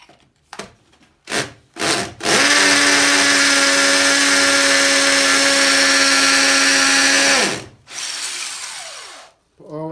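A power drill bores through ceramic tile into hard brick behind it, starting with a few short bursts and then running loud and steady for about five seconds before stopping, followed by brief handling noise.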